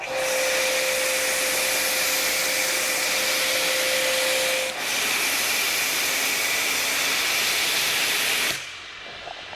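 Steady, loud hissing roar of a pressure washer running a foam cannon during a MaxFlow MPro 25 Gen 2 versus Active 2.3 comparison, continuous and close for about nine seconds before cutting off near the end, with no talk.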